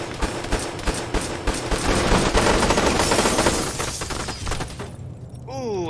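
Dense, loud gunfire from an Arma 3 firefight during a building assault, with rapid overlapping shots and bursts rolling on for several seconds before tapering off.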